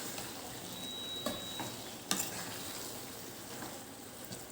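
Masala curry cooking on a stove, with a faint, steady simmer and soft sizzle and a couple of brief clinks, with no talk.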